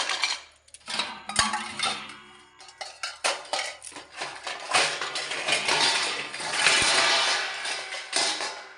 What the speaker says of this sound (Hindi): ये देखो बर्तन रखे हैं मैंने धो के।